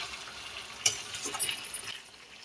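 Chicken with elephant foot yam and potato sautés in a pan, giving a soft sizzle with a few scraping stirs and small clatters, close but fairly quiet, no speech.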